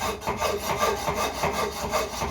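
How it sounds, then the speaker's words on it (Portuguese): A hand file made for aluminium rasps across an aluminium cylinder head in close, steady back-and-forth strokes, a continuous gritty scraping with no talking. "Essa lima aqui é própria para alumínio"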